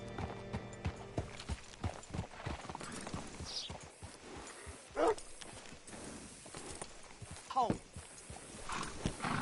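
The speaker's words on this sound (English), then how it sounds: "Hitch your horse up here." Horse hooves clip-clopping at a slow walk in the video game Red Dead Redemption 2, with a couple of brief whinnies and a voice speaking over them.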